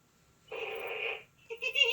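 A Senegal parrot imitates a fart noise, a short buzzy raspy burst of about three quarters of a second, close and clear, followed by a brief second vocal sound.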